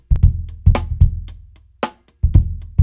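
Soloed kick drum captured with a dynamic microphone, several punchy hits in an uneven pattern with noticeable bright cymbal and snare spill between the strikes.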